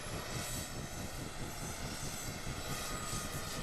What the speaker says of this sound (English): Look at my Chinook, Kenko.